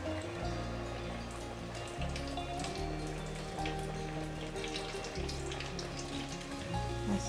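Kachori frying in hot oil, a steady dense crackle and patter of bubbling that holds throughout, close and fairly loud, with no voices over it.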